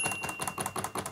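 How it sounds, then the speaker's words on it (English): Hermes 3000 manual typewriter, a margin release key pressed: a rapid run of crisp mechanical clacks and clicks, close and fairly loud, with no talk. "You press on the key and it will move past the margin stop on the right side."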